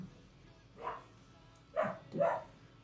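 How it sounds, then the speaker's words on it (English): Puppies barking three times in short bursts, one then a pair a second apart, moderately loud against a quiet room background. "The dogs are barking."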